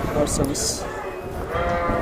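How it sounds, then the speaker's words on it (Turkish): A sheep bleats at a livestock market where a ram goat has just been penned with it, the wavering cry heard close but mixed under someone talking over it. "bizim bölmeye bir koyun bir de teke geldi"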